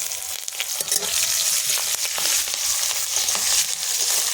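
Red spinach with green chilli sizzles and fries steadily in a pan, a dense, continuous crackle with occasional stirring scrapes, close and fairly loud with no talking.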